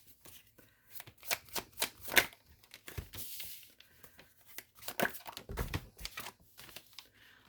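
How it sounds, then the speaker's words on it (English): Tarot cards are shuffled and pulled up close, giving riffling flutters, papery slides and a few sharp card snaps in uneven bursts, with soft crinkles between and no talking. "I'm going to just pull a few more cards, guys, and let's see if it makes any sense here."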